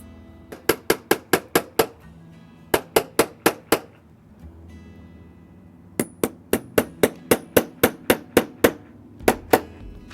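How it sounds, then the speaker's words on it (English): Sharp metallic hammer taps driving nail head trim into an upholstered headboard, in quick bursts of four to eight strikes, pausing between groups, close and crisp against a quiet room. "So I'm going to continue to hammer away and finish this nail head trim."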